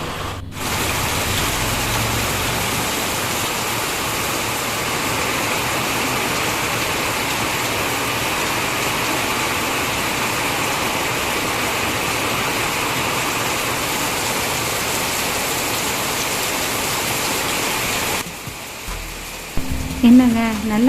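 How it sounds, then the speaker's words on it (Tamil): Heavy rain pours steadily outdoors as a dense, loud, continuous hiss for most of the stretch, then cuts off near the end, where a few brief knocks and faint sounds follow. "செம மழைங்க."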